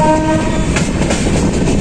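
A WAG9 electric locomotive hauls a train past on the Rampur line near Chandausi, loud and close. The rumble of wheels and rails is broad and steady, and a brief horn tone sounds at the start, with no talk.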